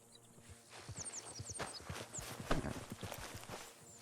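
Hooves clip-clop steadily on hard ground with a horse snorting nearby in Red Dead Redemption 2, high whistling bird calls above and a low continuous background hum.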